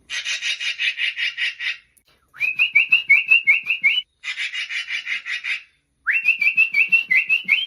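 A person whistles an imitation of a magpie's call, alternating harsh raspy chattering bursts with rising scratchy whistled phrases, loud and close with short gaps between.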